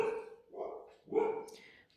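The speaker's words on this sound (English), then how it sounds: "Dogs are going crazy." Dogs near a home bark a few times in quick succession, close and fairly loud, with construction work going on nearby.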